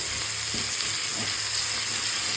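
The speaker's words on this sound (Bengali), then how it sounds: "দেখো কীভাবে তেলটা ছাড়ছে, মশলাটা ভালোভাবে কষে গেছে।" Spices frying in oil in a kadai make a loud, dense, continuous close sizzle with a couple of faint stirring scrapes, no voices.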